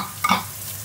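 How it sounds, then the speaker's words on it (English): Vegetables stir-fry in a hot pan alongside pork ribs and egg fried rice, giving a brief close sizzle with a quick scrape of stirring, no voices. "I'm going to stir-fry them quickly."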